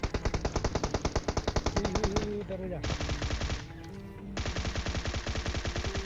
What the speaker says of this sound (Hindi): जैसे यहाँ से निकला ना तो बंदा फायरिंग करता है